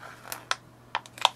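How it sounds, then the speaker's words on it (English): Plastic packaging around printer ink cartridges crinkles and clicks in a few sharp, close, brief snaps with quiet between them. "Take the ink cartridges out of the plastic packaging."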